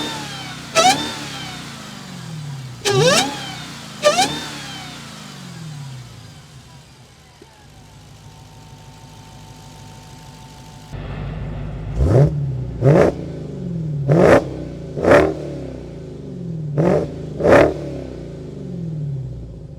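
A 2019 Dodge Challenger Hellcat's 6.2-litre supercharged V8 starts and idles, then is blipped repeatedly in sharp revs, about three early and six later bursts, loud and close with a rumbling idle between them.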